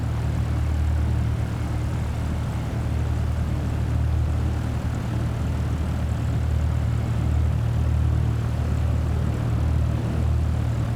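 A propeller aircraft engine hums loudly and steadily while taxiing in Microsoft Flight Simulator 2024, a deep low drone with a constant buzzing whir and no break or speech.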